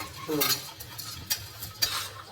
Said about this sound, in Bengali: এবার সব কিছু আমি একসাথে নাড়াচাড়া করতে থাকবো